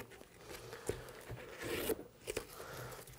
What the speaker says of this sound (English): all this leftover tape can be peeled away as well